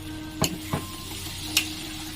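Tomato dropped into spices frying in a pan for a Kolkata street-fair-style ghugni: two soft sizzling bursts with stirring clatter, then a brief sharp scrape, close and moderately loud over a low steady hiss.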